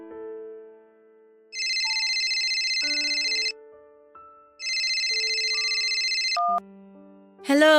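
A phone ringtone sounds for an incoming call in two bursts of about two seconds each, separated by a short pause, over soft background music.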